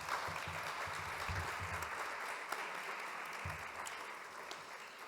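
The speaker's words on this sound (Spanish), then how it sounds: "os ruego un merecidísimo aplauso para Xavier Pineda" Audience applause for a speaker at a national consumer congress, a steady wash of clapping from many hands that holds evenly for about five seconds, with low murmurs early on.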